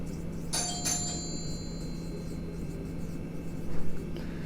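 Marker or chalk strokes on a board in a statistics class, a couple of short squeaky scratches and a brief rubbing near the end over a constant electrical hum.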